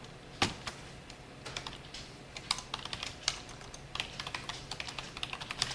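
Computer keyboard keys pressed for a Ctrl+Shift+R shortcut while coding, a scattered run of quiet, close clicks and taps with no one talking.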